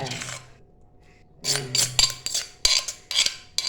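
Food being served onto a plate in a home kitchen, with a few distinct scrapes and clinks of a utensil against the dish in short bursts separated by brief pauses, close and clear.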